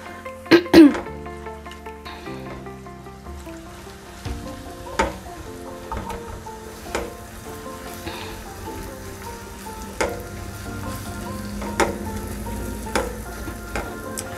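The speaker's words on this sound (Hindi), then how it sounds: "अनियन जो हमने फाइनली चॉप्ड अनियन थे उसको डाल देंगे।" Finely chopped onions fry in a pan with a soft, steady sizzle and occasional stirring knocks, plus a couple of sharp throat-clearing sounds at the start, close and moderately quiet.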